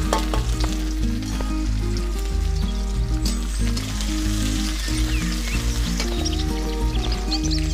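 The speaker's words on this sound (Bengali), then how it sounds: "রসুন একসঙ্গে ভেজে নেব।" Onion and garlic fry together in a pan with a steady, close sizzle, mostly buried under loud background music.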